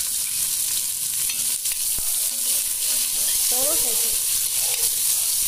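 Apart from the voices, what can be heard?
onion frying in oil in a pan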